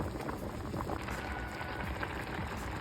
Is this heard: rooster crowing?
no